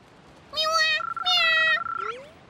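Cats meow in the video game Dragon Quest Treasures: two bright, synthetic meow calls in quick succession, with a sustained electronic tone and a short warbling game sound trailing after them.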